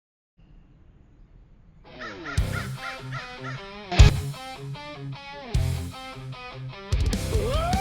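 Crows caw loudly and close by at a woodland trail camera baited with corn, with a series of harsh, rhythmic caws in bursts and some calls overlapping from more than one bird.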